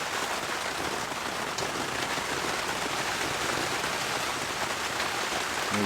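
Heavy rain falls steadily on a tarp and surroundings at a car camp, a dense, unbroken close hiss of drops that carries evenly throughout with no voices.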